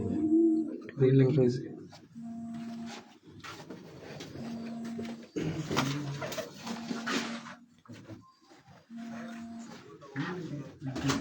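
Pigeons coo repeatedly from a rooftop loft, soft low calls recurring in short bursts, while people talk throughout nearby.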